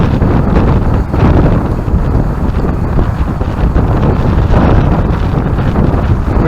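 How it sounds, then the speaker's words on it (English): Strong coastal wind on the Holderness shoreline during cod fishing, roaring steadily and loudly into the microphone with constant buffeting gusts and no pauses. "The wind's starting to get up pretty bad"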